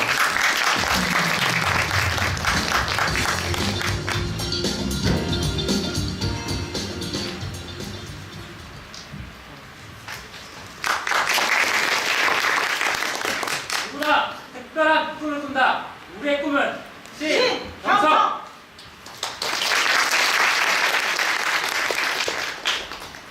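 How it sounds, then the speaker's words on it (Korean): Audience applause welcoming a team onstage at a Korean story theme park pitching contest final: a broad wash of clapping that swells, fades, then returns in bursts alongside a speaking voice, with other talk in between. "박수로 맞이해 주시기 바랍니다"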